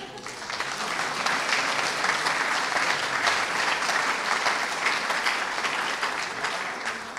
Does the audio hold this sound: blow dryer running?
no